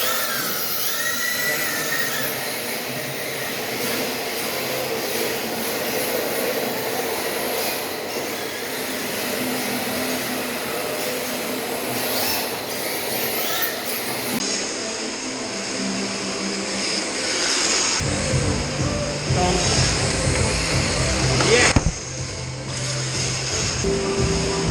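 A drift car is driven inside a rented industrial unit converted into an indoor track, giving a steady, loud mechanical roar that shifts in tone partway through.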